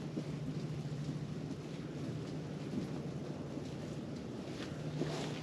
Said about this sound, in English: Wind's starting to get nasty.